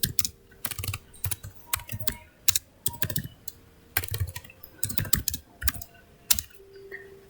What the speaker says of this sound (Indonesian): selanjutnya itu yang perlu teman-teman ketik yaitu